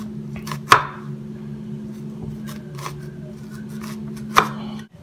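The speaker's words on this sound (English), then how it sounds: "make a series of horizontal slits" Knife cutting horizontal slits into a peeled onion on a board, two sharp close taps about four seconds apart with a faint steady hum beneath and soft scraping between them.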